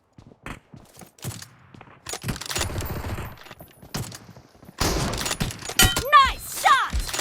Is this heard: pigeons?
no